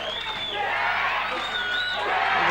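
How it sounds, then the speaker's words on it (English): Fight crowd at a kickboxing bout cheering on Jenk Behic against Dean Keady, a swelling roar with whoops and shouts rising toward the end, with a commentator talking over it. "The crowd's starting to get behind Jenk now."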